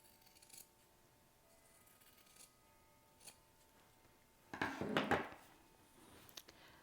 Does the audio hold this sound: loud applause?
no